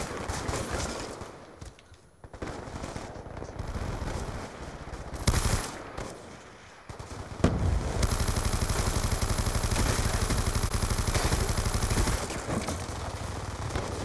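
Automatic weapons fire in Black Ops 2: scattered bursts early on, a few quieter gaps, then a long unbroken rattle of rapid shots filling the second half, loud and close.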